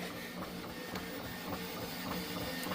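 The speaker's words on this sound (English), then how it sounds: "It's been a ton of 3D printing. Hours and hours and hours of this printer running." A 3D printer runs steadily while printing a part for a hull feeder on a shotshell reloader, giving a continuous close mechanical whir with faint repeated stepper ticks and no voices.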